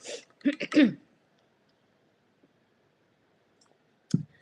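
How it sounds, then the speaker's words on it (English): A person clears their throat in a few short rough bursts, then silence before a single faint click near the end. "I'm gonna clear my throat."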